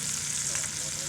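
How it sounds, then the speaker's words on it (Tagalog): Native chicken meat sizzles and spits in a hot pan, a steady crackling frying sound with faint stirring, close by and without talk. "gisa na natin itong karne ng native na manok"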